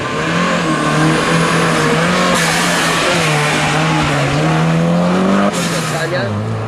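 A Mazda rally car engine roars loudly at a rally special stage start, revving high and pulling away with rising and shifting pitch, tires scrabbling on the surface.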